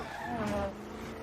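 Car chase in the film Wanted, with a car engine roaring and tires skidding in a short, loud burst, mixed with other film sound and voices.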